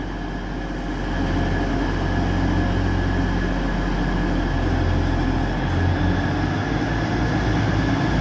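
An East Midlands Railway Class 180 diesel unit departing Nottingham station as an empty stock move, its engine rumble building after the first second into a steady, loud throbbing drone with metallic wheel sounds, and no talk.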